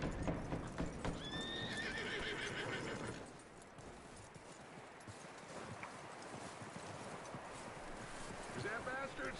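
In the video game Red Dead Redemption 2, a horse lets out a clear neigh, then its hooves clip-clop in a steady walk, with another brief whinny near the end.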